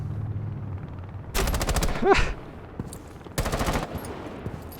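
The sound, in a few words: Tachanka shooting his gun in the video game Rainbow Six Siege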